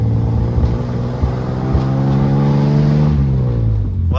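A 1947 Plymouth Super Deluxe convertible hotrod engine drones loudly and steadily from inside the moving car, its pitch sagging slightly before a brief roughness near the end.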